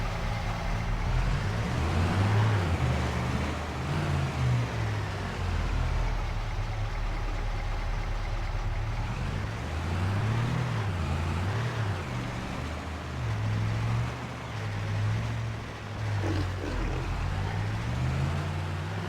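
An old pickup truck in Farming Simulator 25 runs with a low, rough engine rumble that swells and settles in uneven waves, steady and close with no talk over it.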